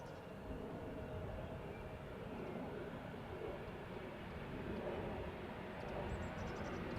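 A KLM Embraer 175 jet at Amsterdam Schiphol produces a steady, fairly distant engine rumble that holds evenly throughout.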